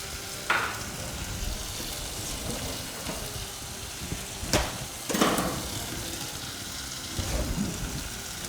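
A chapati cooks in a hot pan, giving a soft, continuous sizzle with occasional sharper taps and scrapes at irregular moments, fairly quiet and free of talk.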